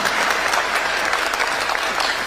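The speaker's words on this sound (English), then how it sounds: "A hearty round of applause for Reverend." An audience at a State House breakfast applauds in a dense, steady burst of clapping, loud and close, with no pause for the whole stretch.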